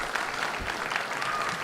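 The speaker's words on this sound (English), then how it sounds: "you guys all give yourselves a round of applause for that" Guests at a walima wedding celebration at the Hilton London Bankside clap together in a brief, fairly soft burst of steady, continuous applause.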